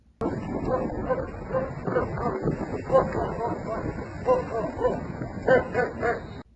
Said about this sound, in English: Here you see this dog barking at random people driving by in a car for no reason.